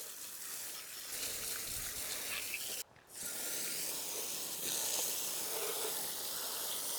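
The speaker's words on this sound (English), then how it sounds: "I'm just gonna give it a quick little rinse." Water sprays in a steady hissing rinse over cleaned saw blades, close and fairly faint, with one brief pause midway before the spray resumes.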